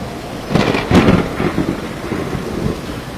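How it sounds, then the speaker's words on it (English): A thunderstorm blowing in from the sea brings loud cracks and rolling rumbles of thunder over steady rain, with a sharp burst near the start fading into a lower grumble. "the storm is here, it's true"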